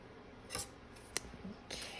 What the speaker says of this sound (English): Okay, scissors.